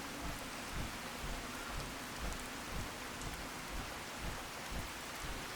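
Steady rain falls with soft, distant thunder rumbles in the stormy outdoor world of the video game Fallout 4, a continuous gentle wash with no talking.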